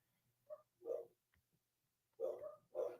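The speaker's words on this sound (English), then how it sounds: "Somebody's home because the dogs are barking" Dogs at home bark in a few sharp bursts, two early and two later after a quiet pause, sounding faint and somewhat distant.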